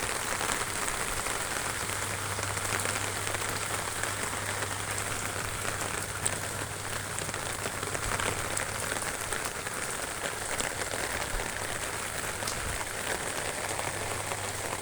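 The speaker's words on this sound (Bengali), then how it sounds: "গোটা মাঠে বৃষ্টি।" Rain patters continuously over a field of melon, cucumber and bitter gourd plants, a uniform soft hiss with occasional louder drops and a faint low hum underneath.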